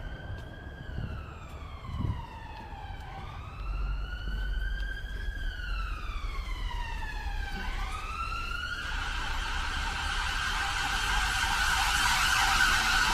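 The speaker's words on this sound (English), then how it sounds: "Police sirens don't stop anywhere." A police siren wails through a city along Regent's Canal in London, its rising and falling tone drifting from moderately distant to nearer and louder over steady traffic rumble and wind.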